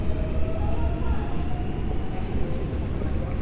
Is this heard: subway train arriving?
yes